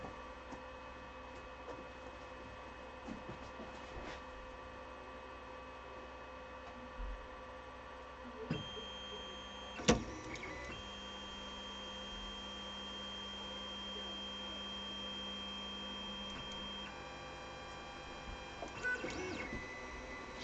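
An SLA 3D printer runs a print, giving a faint steady hum and whir with occasional small clicks and mechanical shifts, quiet and continuous.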